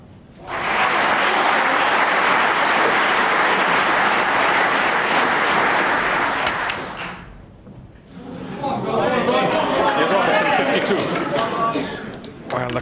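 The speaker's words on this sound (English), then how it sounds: "the crowd getting excited" A snooker crowd at Ronnie O'Sullivan versus Neil Robertson bursts into loud, sustained applause for several seconds, then settles into excited murmuring and chatter with scattered claps.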